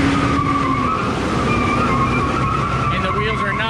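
A four-wheel-drive truck with stripped transfer-case gears is brake-torqued like a burnout. A loud, continuous engine roar runs with a wavering tire-squeal tone, close by, with voices underneath.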